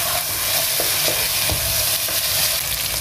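Spices and crushed cumin fry in hot oil with a dense, steady sizzle, while a spoon stirs through the pan with regular scraping strokes close by.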